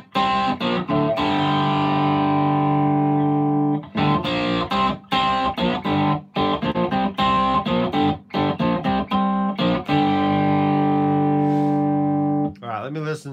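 Electric guitar played through a Headrush effects rig with the low mids boosted, giving a driven, effected tone. Loud, choppy chords and riffs come in bursts separated by short gaps, and the playing stands alone.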